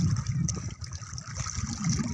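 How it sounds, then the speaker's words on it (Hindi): Water lapping in small waves in front of a dam, a steady low watery wash with soft trickling, continuous and close, with no voices. "डैम के सामने मैं बैठा हुआ हूँ और आप देख सकते हैं पानी की लहर"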